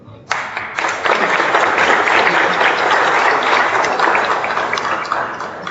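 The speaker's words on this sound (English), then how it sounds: "They're clapping for their boss." An audience at a closing panel discussion bursts into applause after a speaker finishes, a sudden, loud, dense clapping that starts abruptly and holds steady before easing slightly, with murmured voices mixed in.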